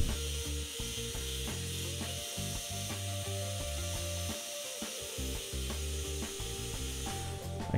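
Poor-quality jigsaw cutting joining slots in a wooden paddleboard frame, a close, rapid buzzing rasp in short bursts with brief pauses between passes.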